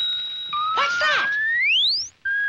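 A cartoon interplanetary communicator signal: steady electronic tones interrupted by a burst of warbling chirps, then a rising sine-like sweep that cuts out briefly before the tone resumes, loud and close with no talk.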